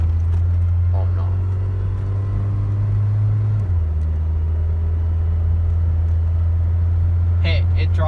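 A Ford Mustang car drives with a loud, steady low engine drone that drops slightly in pitch partway through, with faint voices in the cabin.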